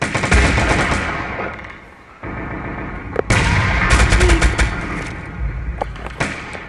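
Gunfire in a D-Day video game, dense volleys and sharp individual shots with loud cracks over a continuous battle din, heard close and loud.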